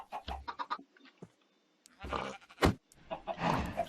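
Sheep in Minecraft bleat in short, separate bursts scattered through the clip, some clear and close and others overlapping, with quiet gaps between calls and no speech.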